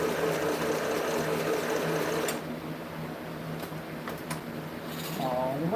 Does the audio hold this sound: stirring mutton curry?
no